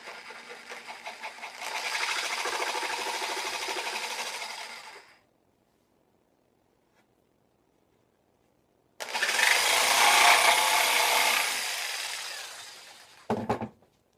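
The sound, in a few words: hand saw cutting wood along lines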